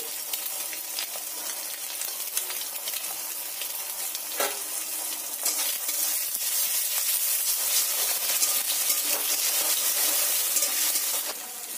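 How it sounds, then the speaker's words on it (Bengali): Two eggs with a little salt are scrambled and fried into bhujia in a karai. A loud, continuous sizzle with hissing steam fills the whole stretch, with occasional scrapes from stirring and no speech. "ডিমগুলোকে ভালো করে ভুজিয়া করে নেব।"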